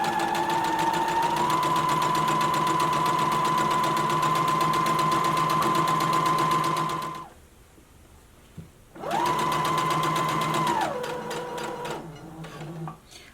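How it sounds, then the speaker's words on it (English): Sewing machine stitching a drawstring elastic-waist maxi skirt, running in a loud steady whirring hum for several seconds, pausing briefly, then running again before slowing to a stop. "I'm going to begin sewing, back stitching"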